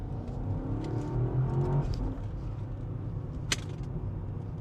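A 2025 BMW M5 Touring wagon accelerating out of a corner, its engine rising in a smooth steady drone with a brief sharper whine near the end, heard from inside the cabin with no talk over it.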